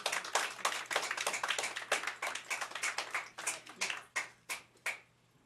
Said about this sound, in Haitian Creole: On applaudit pour King Kino, s'il vous plaît.